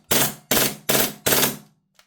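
An airsoft MP9 gas blowback submachine gun loaded with a VMP1 magazine fires four loud, sharp bursts in quick succession, each with a short ringing tail, then gives a faint click at the end.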